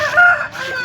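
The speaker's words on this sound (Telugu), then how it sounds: "ఫ్రెండ్స్ మీరు చూస్తున్నారు కదా ఈ కోడి కూడా బెర్స కోడి అంటున్నారు." A Bersa fighting-breed rooster at the Pileru poultry market lets out a brief, close, loud crowing call with no talking over it.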